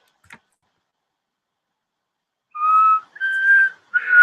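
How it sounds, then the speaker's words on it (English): After a stretch of near silence, a person whistles three short, clear notes close by, each a pure sustained tone with brief gaps between them. "I'm sorry if whistling bothers anyone."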